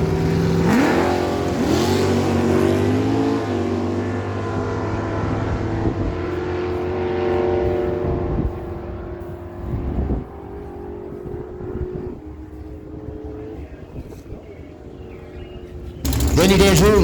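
1968 Chevelle SS and 1968 Corvette launching side by side at a drag race, engines revving loudly then roaring away and fading into the distance, a commentator talking over it, with another loud burst of engine noise at the end.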